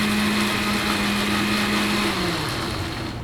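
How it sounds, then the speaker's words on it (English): A blender whirs steadily as it purees basil for pesto, a loud, close motor drone with a constant hum that drops in pitch as it slows near the end; no voices. "so we're gonna start blending the basil"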